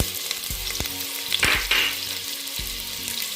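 Green chillies fry in hot oil with a busy, close sizzle, spattering and a few sharp pops and clacks from the pan, no voices.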